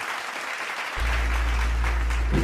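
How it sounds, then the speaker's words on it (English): Applause for graduates at an elementary school virtual graduation ceremony, a steady dense wash of clapping that swells after a moment and holds at a constant level. "Let's clap our hands for all of them"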